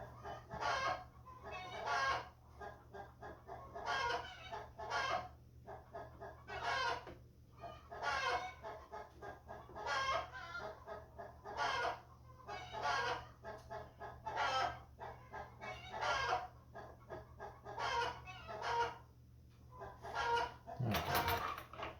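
Chickens right outside a window clucking and squawking in repeated bursts every second or two, fairly close, over a low steady background hum, with a louder squawk near the end.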